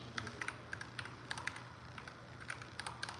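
Typing on a computer keyboard, with a steady run of quick, close key clicks at an even, brisk rhythm over faint background hum and no talking.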